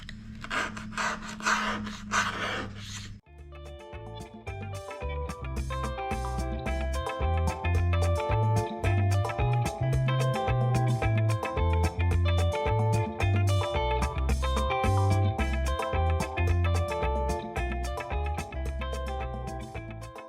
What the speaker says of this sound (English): So I've done scraping off my mirror.